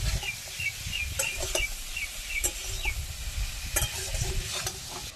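Long beans stir-fried in a pan with salt, turmeric, cumin powder and ginger-green chilli paste give a soft, continuous sizzle, broken by occasional light scrapes and taps of a spatula.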